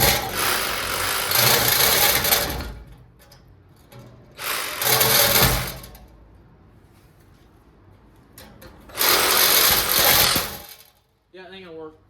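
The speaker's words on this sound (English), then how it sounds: "I'm gonna try to cut this one right here with the Sawzall." A Sawzall reciprocating saw buzzes loudly in three separate bursts, trying to cut the metal floor pan of a 1978 Ford, with quieter gaps between the bursts.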